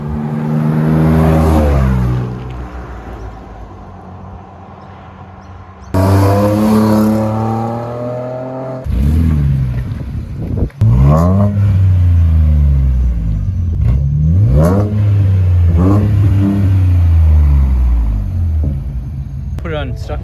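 A Ford Raptor with a twin-turbo V6 and stock exhaust mode drives past at the speed limit, engine note swelling with shifting gear tones as it approaches and recedes, repeated over several passes with someone talking.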